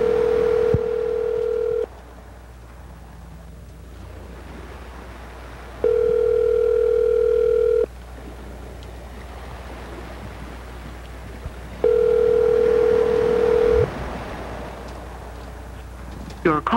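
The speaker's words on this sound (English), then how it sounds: "I'm calling Mr. Ginsu now." An outgoing telephone call rings three times, each ring a steady tone about two seconds long, separated by pauses over a constant hiss of background noise.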